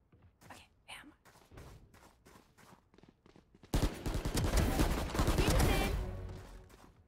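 A sustained volley of loud gunfire in Valorant erupts midway after quieter footsteps and movement, dense and close in a burst lasting a few seconds.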